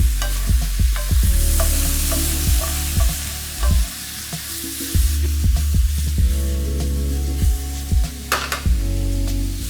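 Shrimp fry in oil in a crowded pan with garlic, red pepper and black pepper, giving a constant close sizzle broken by frequent clacks and scrapes of a utensil stirring against the pan.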